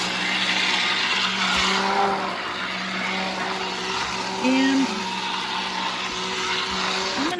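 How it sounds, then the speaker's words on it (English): An immersion blender whirs steadily through a celery and broccoli soup, a loud continuous motor drone with a brief pitch shift midway, while a voice speaks briefly over it. "you take an immersion blender and you blend it like this"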